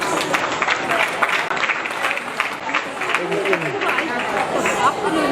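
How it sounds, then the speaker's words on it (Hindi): Applause at a national cultural camp and festival, a crowd clapping steadily with chatter and voices mixed in throughout, moderately loud and close. "तालियां बजती रहनी चाहिए।"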